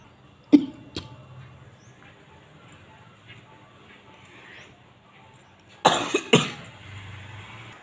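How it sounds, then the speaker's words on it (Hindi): Two sharp coughs early on, then a pair of louder coughs later, close to the mic, with quiet background in between. "स्किप करते करते खांसियाँ हो जा रही हैं"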